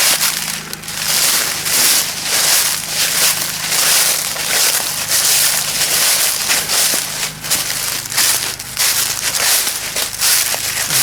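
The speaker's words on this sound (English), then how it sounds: "just fired up the generator" A generator runs steadily outdoors at a deer hunting camp, a loud continuous engine drone with crackling, rattling texture throughout and no pauses.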